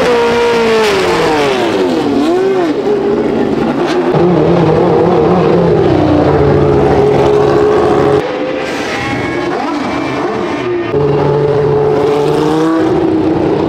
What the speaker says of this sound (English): You can start hearing the V8s and carbureted motors getting ready and warmed up.